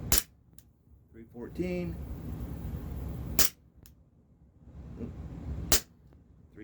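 A Smith & Wesson M&P 6mm airsoft pistol running on green gas pops three times, sharp and close, spaced a few seconds apart, with someone speaking briefly between shots.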